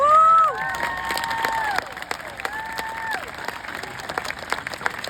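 An audience at a political rally applauds and cheers, with a few whoops and shouted calls over steady clapping that thins slightly partway through.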